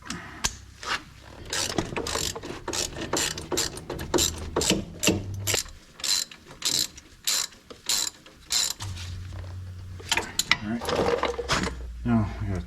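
Hand ratchet snugging the bolts of a front wheel bearing on a Chevrolet Trailblazer or GMC Envoy, heard as rapid, close clicking in repeated bursts with short pauses between strokes, and someone talking intermittently over it.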